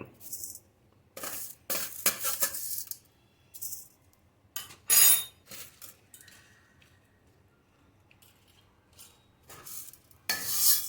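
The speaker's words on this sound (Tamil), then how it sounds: "இப்போ கொள்ளை வறுக்கிறோம்" Horse gram dry-roasts in a pan, with intermittent bursts of scraping and rattling as a spoon stirs the grains. Quiet pauses fall between the strokes, and the sound is close but moderate in level.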